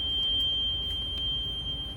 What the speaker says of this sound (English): I'll be looking for my low air warning light and buzzer to come on between 60 and 80 psi.